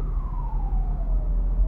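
An ambulance siren on a road near Bucharest and Otopeni sounds as a single gliding wail that slowly falls in pitch, moderately loud over low traffic rumble.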